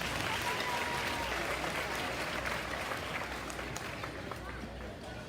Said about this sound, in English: let's give these kids a round of applause, and the kids that are going to go out, let's give them a round of applause